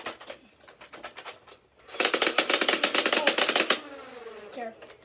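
Dart Zone Disrupter foam dart toy blaster firing in full-auto bursts, a short stuttering volley, a pause, then a fast loud rattle of about twenty rapid shots, ending with whirring flywheels winding down.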